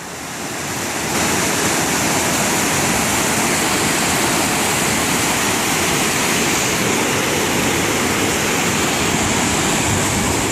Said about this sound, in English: I guess this is the Woods Creek water slide